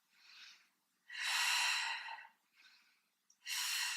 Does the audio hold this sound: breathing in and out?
yes